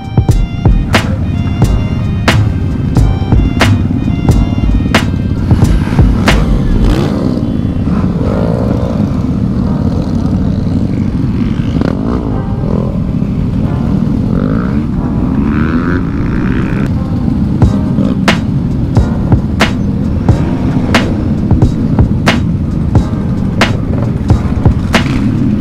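A loud motorcycle ripping through a Portland alley, engine roaring and revving hard with repeated sharp pops and surges, close and aggressive throughout.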